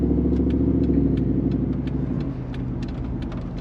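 A 2009 Jeep with a 6.4L 392 Hemi V8 runs with a deep, steady rumble and a loud, close low throb, easing a little in level partway through.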